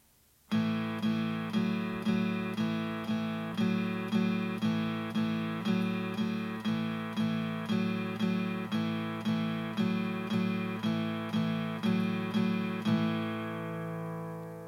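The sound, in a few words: acoustic guitar rhythm accompaniment played slowly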